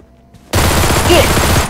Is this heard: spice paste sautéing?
no